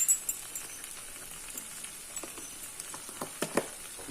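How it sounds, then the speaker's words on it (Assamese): Chicken curry with meat masala fries in a pan, a quiet steady sizzle punctuated by soft clicks and stirring scrapes, heard alone at low volume. "মিক্স কৰিম মই এতিয়া ভালকৈ আৰু এনেকৈ ফ্ৰাই কৰিম অকল অলপ টাইম"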